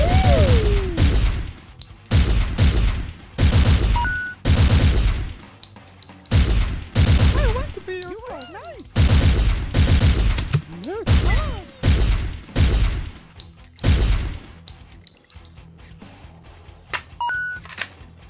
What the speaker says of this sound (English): Now this is a assault rifle.